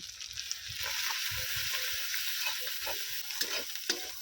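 Ginger garlic paste sautéing with chili and turmeric powder sizzles steadily in a pan while a spoon stirs and scrapes in repeated close strokes, with no talking.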